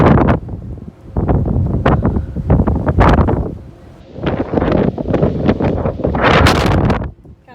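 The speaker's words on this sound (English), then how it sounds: "How windy it is." Strong wind buffets the microphone on a cruise ship deck in loud, uneven gusts that rise and fall over several seconds, with rustling and a brief voice underneath.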